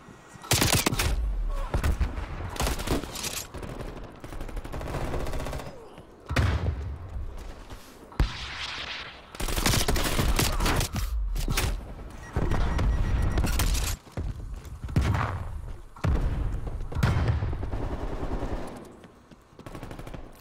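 An RPD light machine gun fires in long and short rattling bursts in Black Ops Cold War on Nuketown, loud and close, broken by brief gaps and a few heavy thuds.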